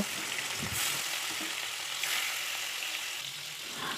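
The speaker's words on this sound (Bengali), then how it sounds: "এখন আমি মাছগুলির মধ্যে হালকা একটু লবণ হলুদ দিয়ে হালকা করে একটু ভেজে নেব" Fish pieces coated with salt and turmeric fry in a pan, giving a continuous soft crackling sizzle with occasional stirring scrapes, close but fairly quiet, with no talk.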